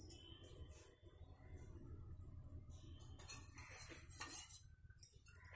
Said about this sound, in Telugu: ఇప్పుడు మనం గ్యాస్ ఆన్ చేసుకొని కళాయి పెట్టుకున్నాను.